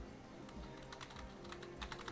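Rapid clattering keystrokes on a computer keyboard during an online combat game session, a quick uneven burst of close taps with no talking.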